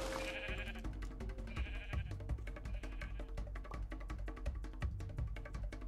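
Minecraft sheep bleating repeatedly over steady game background sounds and music, the bleats soft and evenly spaced, with no talk.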